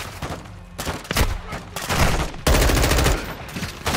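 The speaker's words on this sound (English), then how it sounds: "This gun sounds so good." Gunfire from a weapon in the Modern Warfare II video game, rapid bursts of loud close shots in several sustained volleys with brief pauses between them.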